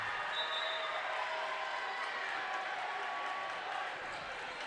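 A home crowd at a high school boys basketball district final cheers on the Lancers, a faint, distant steady roar of voices filling the gym throughout.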